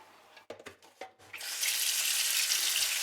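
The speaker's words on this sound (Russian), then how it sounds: "А огурчики идем промывать, чтобы убрать лишнюю кислоту под проточной водой." Cold tap water running into a sink as pickled cucumbers are rinsed in a kitchen, a few soft handling knocks at first, then a steady close hiss of flowing water.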